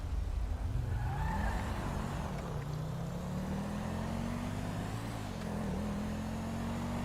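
A stolen car's engine in a video game drones and revs steadily, pitch slowly climbing with a synthetic, even tone and no pauses.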